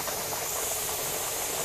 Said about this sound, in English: It's full steam.